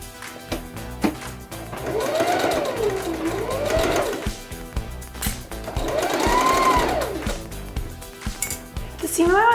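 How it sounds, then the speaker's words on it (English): A sewing machine runs in two long steady bursts while stitching bias binding around a curved shirt neckline at a quarter-inch seam, its whirring motor rising and falling in pitch, with small clinks and taps between runs. "Now I'll stitch the bias binding around the neckline at a 1/4 inch seam allowance."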